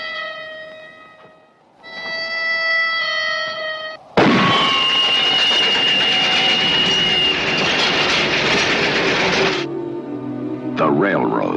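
A railroad train sound effect in a radio show preview roars in as a loud, sustained rumbling rush after tonal musical notes, then fades into other sounds with a voice speaking.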